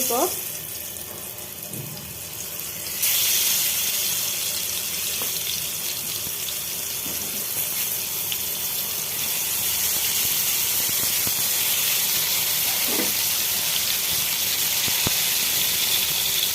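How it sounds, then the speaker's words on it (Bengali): Eggplant fries in mustard oil in a pan, a steady, close hiss that swells after a few seconds and then holds at a constant level. "আমি সরিষার তেলে বেগুনগুলো ভাজবো"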